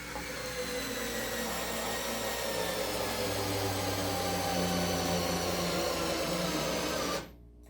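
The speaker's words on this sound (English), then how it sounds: "So now let's test how far a 3-inch long screw can go." A Ryobi 4V USB lithium screwdriver drives a 3-inch screw, a steady motor whir and gear buzz running continuously at close range before cutting off abruptly near the end.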